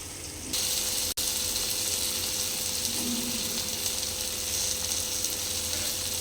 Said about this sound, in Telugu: ఇంకో స్టవ్ మీద నేను సేమియా కొంచెం ఫ్రై చేసుకుంటున్నా అండి